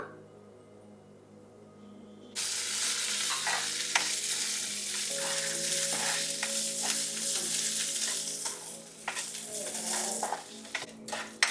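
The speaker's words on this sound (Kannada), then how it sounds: "ಇವಾಗ ಹಸಿಮೆಣಸಿನ್ಕಾಯಿ ಹಾಕೊಳ್ಳೋಣ." Green chilies hit a pan of hot oil with peanuts for tomato coriander chutney, and after a quiet moment a loud sizzle bursts out. The frying then continues steadily under stirring, with a metal spoon scraping and clinking against the pan.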